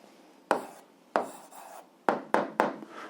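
A pen writing an answer to an eighth-grade algebra exercise, five crisp strokes on paper with short scratching tails, close and quiet with gaps between, no talk.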